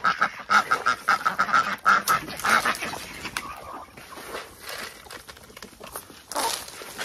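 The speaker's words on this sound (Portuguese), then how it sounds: "Aí eu tô com os marreco de Pequim e os Carolina." Pekin ducks on a smallholding quack in a quick run of repeated nasal calls, loud and close at first, then fainter calls continue amid a busy farmyard backdrop.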